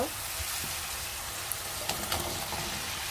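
Drumsticks and potatoes sautéing in a pan for a curry, a steady broad sizzle and hiss throughout with a few soft clinks and stirring knocks, close and even.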